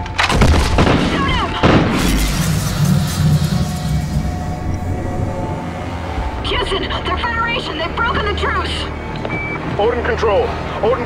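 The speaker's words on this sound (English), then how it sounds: "we are taking fire!" Loud gunfire and booming explosions in Call of Duty Ghosts, a dense continuous battle din with bursts of rapid shots and heavy rumbles, mixed with game voices and alarm-like tones.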